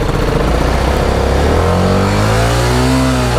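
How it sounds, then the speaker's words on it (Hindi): A BMW motorcycle engine revs hard during a burnout, a loud, close, sustained roar whose pitch climbs steadily as the rear wheel spins, with no voices. "बर्नआउट हो गया भाई, बर्नआउट हो गया"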